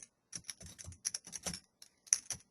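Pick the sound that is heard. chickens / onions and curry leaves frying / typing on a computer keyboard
typing on a computer keyboard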